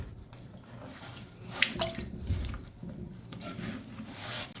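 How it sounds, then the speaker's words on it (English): Wet sponging and dripping as water is soaked out of a toilet tank into a bucket, soft squelches and trickles close by, quiet with a few brief splashes. "And you wanna just kind of sponge it out."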